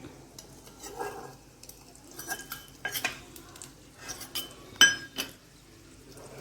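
A bowl lifted off a cooking pan while making a wheat-and-egg puff snack: a series of close clinks and clattering knocks of metal and glass over a faint, low background sizzle, sharpest near the end.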